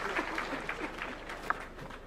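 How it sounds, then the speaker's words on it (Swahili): Audience applauding President Ruto at a Youth International Day event in Kakamega County, a brief, fairly faint spell of scattered clapping heard from a distance. "Tumpigie makofi Mheshimiwa"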